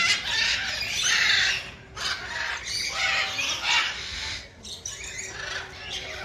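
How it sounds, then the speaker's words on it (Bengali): Macaws and lory parrots in a zoo aviary give loud, harsh squawks in repeated bursts, close and raucous, with short pauses between the calls. "যে ম্যাকাও পাখি রয়েছে সেগুলো দেখতে পাবেন পরপর অনেকগুলো"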